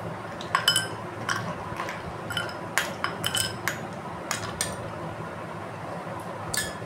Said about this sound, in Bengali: আইস কিউব দিয়ে দিলাম।